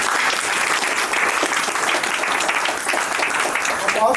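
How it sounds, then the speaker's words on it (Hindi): An audience claps loudly and steadily for Anjali at a franchise launch event in Ayodhya, a dense continuous applause with some voices mixed in. "तालियाँ होनी चाहिए।"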